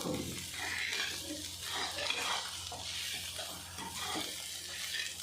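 Small bitter gourds frying with spices in a pan, a steady crackling sizzle broken by repeated stirring scrapes, loud and close with no talking.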